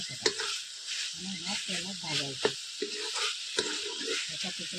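Dried Bombay duck fish roasting in a pan with turmeric being added, a steady sizzling hiss with occasional clinks and scrapes, while a voice speaks intermittently over the cooking.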